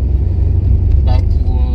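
A Renault Twingo's engine rumbles steadily from inside the moving car, a loud low drone with a brief faint higher noise partway through and no clear speech.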